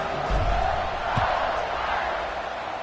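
Football stadium crowd at kickoff of an Auburn game, a broad roaring wash of many voices that swells briefly and holds steady, heard from a distance.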